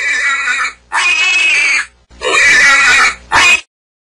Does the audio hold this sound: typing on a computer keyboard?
no